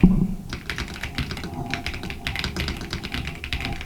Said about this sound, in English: I was typing for freaking 10 seconds in the YouTube chat